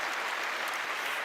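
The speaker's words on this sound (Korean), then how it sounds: "박수 한번 보낼까요?" Audience members at a company sales seminar clap together in a brief, dense burst of applause, steady and fairly close, with no voices over it.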